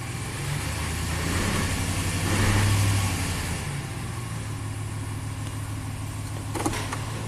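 A Ram's HEMI V8, which has a fault code, runs just after start-up with a deep steady idle hum and a brief rev swell early on, then settles into an even drone.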